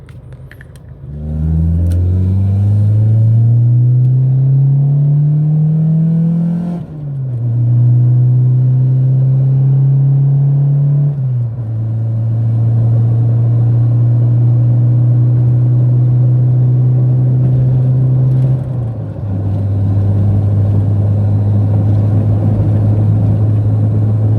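A stock D15B7-powered Honda Civic accelerates hard onto the freeway, its engine note climbing steadily in loud, close runs broken by three brief dips at gear changes, the drone settling lower after each shift with no talking.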